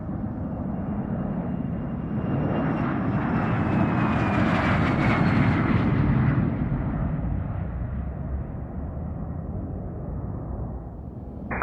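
A Gulfstream private jet takes off from runway 21, its engines building to a loud, broad roar with a rising whine that peaks midway, then settles into a steady rumble as the aircraft climbs away.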